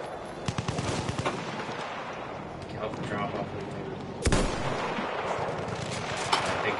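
Video game gunfire crackles in scattered bursts and single shots, with one sharp loud report midway, over steady background noise while people talk throughout.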